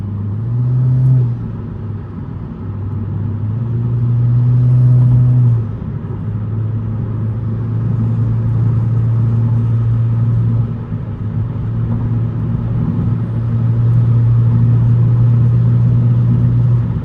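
Inside a 10th gen Honda Civic hatchback on a night drive, its engine and catless downpipe exhaust give a steady low drone that holds through the run, rising slightly in pitch at times, with constant road rumble and no voices.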